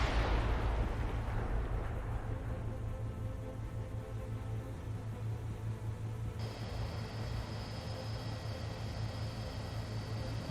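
A submarine fires a torpedo from tube 7 in the naval game Cold Waters: a loud, sustained broadband rush over deep rumbling, shifting to a harsher hiss partway through, with no voices.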